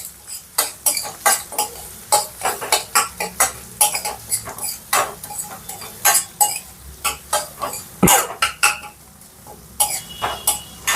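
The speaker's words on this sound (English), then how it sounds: "Now I am gonna add the onions that I have cut. And give it a good mix." Chopped onions are stirred in a cooking pot for a South Indian ridge gourd curry. A spoon scrapes and clinks against the metal in quick, close strokes, with a brief pause near the end.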